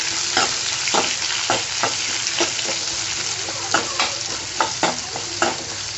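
Onions and green chilies sauté in a hot pan with curry leaves, giving a steady oily sizzle broken by regular scraping strokes of a stirring spoon, close up with no talking.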